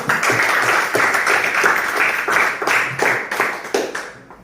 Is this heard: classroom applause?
yes